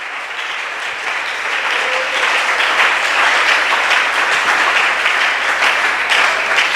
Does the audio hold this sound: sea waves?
no